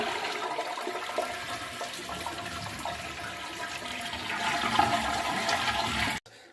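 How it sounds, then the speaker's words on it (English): A toilet flushes with a steady, loud rush of swirling water that runs for about six seconds before cutting off abruptly; it happens during replacement of a Fluidmaster 400A series fill valve. "Flush the toilet."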